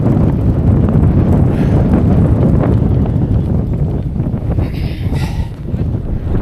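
Strong wind roaring across the microphone while cycling downhill against a headwind, a loud continuous low buffeting rush with gusty swells and no clear talk.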